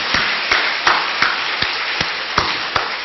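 Slow, evenly spaced claps ring out one at a time, about three per second, over a dense steady hiss like a large church congregation applauding.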